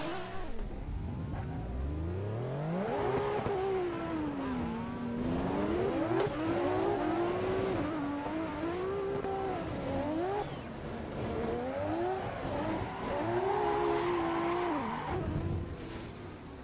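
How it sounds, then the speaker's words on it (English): A car drifting in a video game on a tandem drift server: the engine revs up and down in wavering, repeated surges with a high whine over it, tires squealing through the turns, steady and close throughout. "I don't know how to drift this car."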